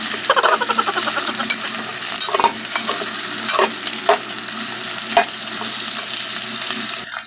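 Tomatoes sautéing in a frying pan for a tomato and egg dish, a continuous loud sizzle and crackle with repeated scraping stirs of a utensil against the pan, no voices.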